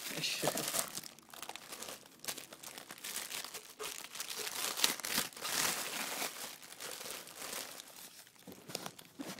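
Plastic packaging around a new ultra power supply is handled and unwrapped, a close, continuous crinkling and crackling with sharp rustles throughout, with a voice talking underneath.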